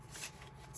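A deck of playing cards is shuffled close by in a brief, soft riffling burst, faint and alone without any talking.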